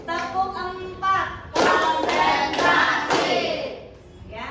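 Children in a classroom clap a four-beat pattern in unison, four sharp, evenly spaced claps following a voice that speaks briefly before them.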